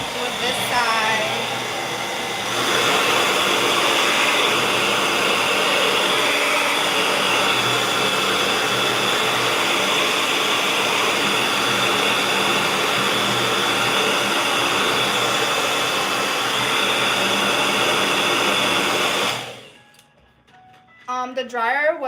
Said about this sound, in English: So I like to use the dryer